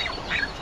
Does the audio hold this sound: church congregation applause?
no